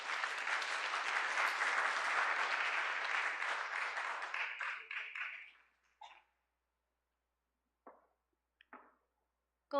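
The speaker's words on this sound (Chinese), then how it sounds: "我们拍手欢迎他们" A church congregation at a Sunday worship service claps steadily for about five seconds, the applause fading out and leaving a few brief scattered claps and noises in near silence.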